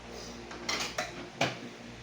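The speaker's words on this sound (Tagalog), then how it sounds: "Haluin na natin ating coffee." A metal spoon clinks against a cup three times while stirring coffee, giving light, quick taps over quiet room tone with no voices.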